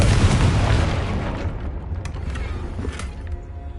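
A Confringo spell blast in Hogwarts Legacy, a single broad booming explosion at the start that fades into a rumbling decay, with a few faint crackles afterward and no talking.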